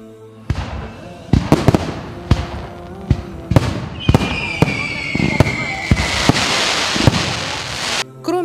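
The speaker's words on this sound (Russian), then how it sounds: "мусульмане Саратова подарят горожанам красочный салют" A celebratory fireworks salute in Saratov bursts in a series of sharp, loud explosions spaced a second or so apart, with a whistling rocket and crackling sparkle between the bangs.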